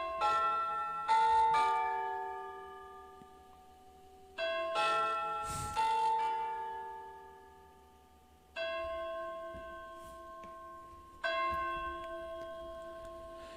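A doorbell chimes in a series of clear ringing tones, several strikes about two to three seconds apart, each decaying slowly, heard alone without talk.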